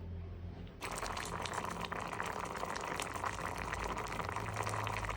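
Cut and washed sweet potato nearly done boiling in a pot of water, a dense continuous bubbling hiss that stays steady throughout with no talking.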